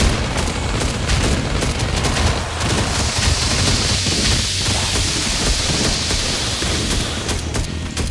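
Exploding barrels and gunfire in the video game Last Day on Earth make a dense, loud, continuous wash of blasts and noise with no clear separate hits.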